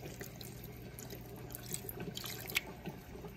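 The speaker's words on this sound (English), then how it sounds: "I'm gonna add a little bit of water." Water is poured into a pan of sausages, a faint, steady running trickle with a few light splashes and drips, heard close and alone without voices.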